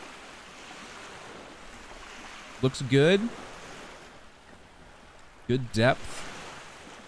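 Steady ocean surf washing against the coast of The Witch of Fern Island, a life-sim video game, forms a constant rushing bed of sound under two short bursts of speech.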